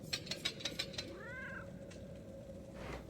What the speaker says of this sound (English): there's a bugged out cat